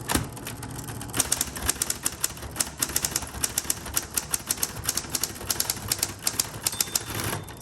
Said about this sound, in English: sorry, I can't type and talk very well